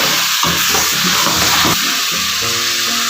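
Chicken with garlic and ginger frying over a full flame for Afghani karahi, a steady loud sizzle and hiss throughout with faint clattering underneath.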